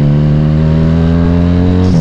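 A Regal Raptor Cruiser 350cc motorcycle engine revs loud and close, a deep steady rumble holding level before a slight change in pitch near the end.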